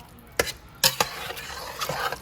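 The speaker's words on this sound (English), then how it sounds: "And then I'm gonna stir it in." Chili being stirred in a pot as Worcestershire sauce goes in, with a few loud scraping strokes against a soft steady sizzle, close by.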